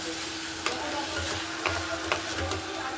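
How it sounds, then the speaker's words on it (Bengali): A spatula stirs a vegetable charchari of potato, onion stalks, cauliflower and flat beans with chopped coriander in a pan, giving a few soft scraping strokes over a low, steady sizzle, close and fairly quiet. "ধনেপাতা কুচো দিয়ে দিলাম, দিয়ে সবজির সাথে ভালো করে মিশিয়ে নিতে হবে"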